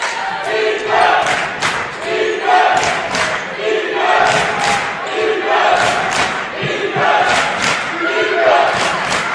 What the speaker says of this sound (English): Crowd is jacked here.